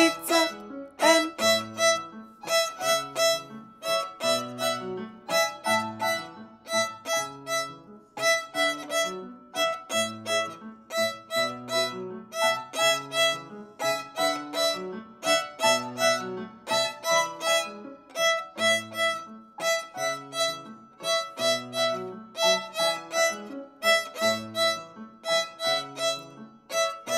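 Young violin students in a spring concert play Dancing in Avignon, a steady run of plucked or bowed notes in a repeating rhythmic pattern, fairly close and clear with no talking over it.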